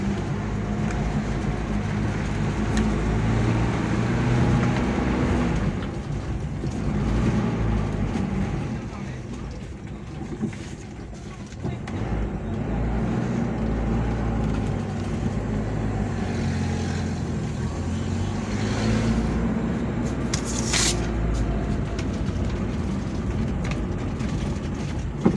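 A Toyota Kijang drives on a road test after a cross joint replacement, giving a steady low rumble of engine and road noise from inside the car, with someone talking briefly partway through.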